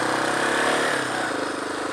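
A motorcycle engine drones steadily while riding on a California highway, a continuous mid-pitched hum that stays close and even throughout, with no talking.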